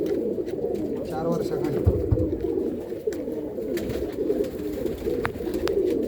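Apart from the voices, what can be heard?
pigeons from Andhra cooing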